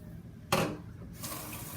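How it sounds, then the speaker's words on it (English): Tap water poured into a pot for an old-school pot roast with braised cabbage, ham hocks and bacon: a sudden splashing gush near the start, then a steadier softer flow, close and alone with no talk. "I'm gonna add the water to this."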